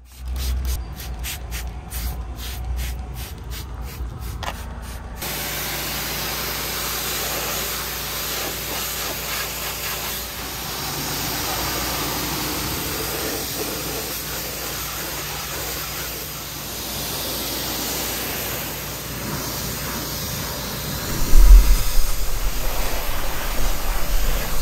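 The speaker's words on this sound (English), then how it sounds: "I spray pre-wash onto the tires and arches before a good pressure wash." Pre-wash is sprayed onto car tires and wheel arches, followed by a pressure washer's continuous loud hissing spray, with a rapid pulsing start before settling into a steady rushing jet that roughens near the end.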